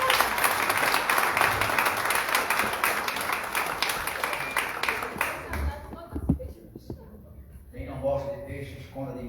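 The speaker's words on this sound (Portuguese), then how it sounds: "Quem quer na vitória dele, dá uma salva de palmas para Deus" A church congregation breaks into brisk, dense clapping as praise to God, loud at first and then fading out, giving way to a pastor's voice speaking alone.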